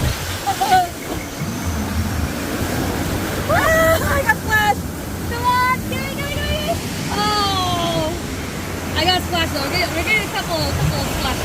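Water splashes sprayed on riders of a theme park ride at Knott's Spooky Farm, a rushing broadband wash running throughout, with excited voices shouting and whooping over it.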